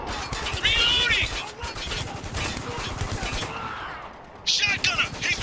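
Rapid bursts of automatic gunfire crackle continuously in the Spec Ops: The Line shooter, loud and dense, with shouting voices breaking in over the shots near the end.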